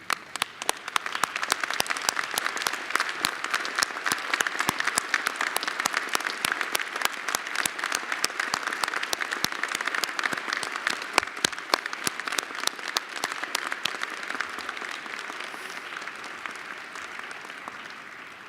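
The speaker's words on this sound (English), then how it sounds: "please rise and give our honoree the great applause that she deserves and merits" A graduate commencement audience stands and applauds an honoree, sustained dense clapping with individual sharp claps throughout, tapering off slightly near the end.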